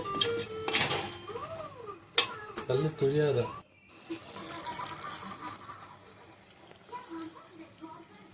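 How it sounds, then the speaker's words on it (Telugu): Water is poured into a pan of mango, drumstick and tomato curry, a soft trickle and splash under someone talking, then a longer gentle pouring rush once the talk stops. "తగినన్ని నీళ్ళను కూడా ముక్కలు మురిగేంత వరకు వేసుకోవాలి"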